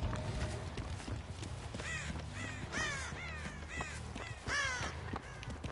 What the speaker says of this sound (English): Oh, they've disturbed crows over here.